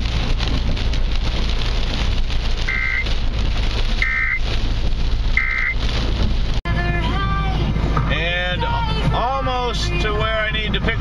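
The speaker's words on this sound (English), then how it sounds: "A severe thunderstorm." Steady heavy rain from a severe thunderstorm roars throughout, a dense broadband wash, with a few short tonal beeps early on and chirpy voices or birdlike sounds later.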